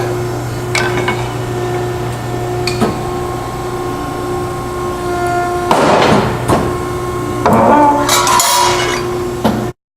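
A Scotchman 5014-TM hydraulic punch and shearing machine punches an oval hole in steel plate over a steady motor hum, with metallic clinks and clunks and a louder burst of punching noise midway, close and loud.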